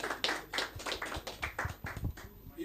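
Scattered, faint hand claps from an audience at a spoken word poetry event in Lagos, a brief light round with individual claps audible rather than a dense roar.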